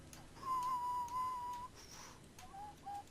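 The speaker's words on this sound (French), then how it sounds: "j'aime bien siffler" A person whistles a long sustained note, then after a pause two shorter notes, close and fairly quiet, with no talking.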